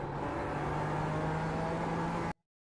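A BMW M4 Evo GT4 in iRacing at Zandvoort holds a loud, steady engine drone, heard close from the car, before it cuts off abruptly to silence.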